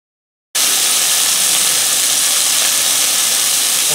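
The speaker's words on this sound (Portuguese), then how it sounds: "Agora vamos virar todos os cubinhos para fritar do outro lado." Beef cubes fry in olive oil in a hot pan, a loud steady sizzle that starts abruptly after a short silence and hisses on evenly without speech.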